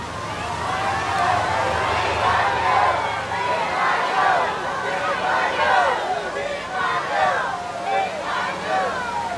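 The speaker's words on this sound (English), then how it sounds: "Crowds just shouting out Mr. Lee Kuan Yew's name as the funeral cortege makes its way along this stretch of Jalan Bukit Merah" A large crowd along Jalan Bukit Merah shouts Lee Kuan Yew's name as his state funeral cortege passes, a loud, sustained mass of overlapping voices with rising and falling cheers.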